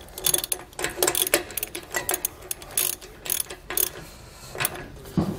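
Ratcheting clicks and metallic mechanism noise come from tightening and loosening a hub nut on a trailer axle spindle during a disc brake conversion on a 2020 Jayco Pinnacle fifth wheel, in a quick, irregular series of bursts heard close up without talk.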